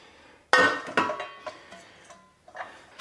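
A Caraway non-toxic 1-pound loaf pan is handled, giving several light metallic clinks and knocks in an irregular rhythm, close and without talk.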